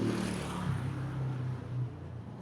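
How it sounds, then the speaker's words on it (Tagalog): Road traffic passing beside the roadside: a steady, close rumble of vehicle engines with a rising and falling motor drone, continuous throughout and fairly loud, without talk. "pasensya na kayo, medyo maingay. Tabing kalsada tayo."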